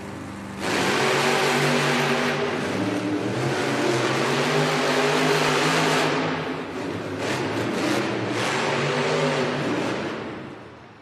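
Monster truck engines roar and rev at a Monster Jam arena race in Allentown, PA, a loud sustained drone that swells and dips before fading at the end.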